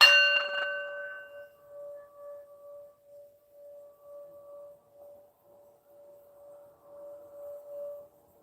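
A single metal singing bowl is struck once, then a steady, pure tone rings on and gently pulses in volume for several seconds, clear and close.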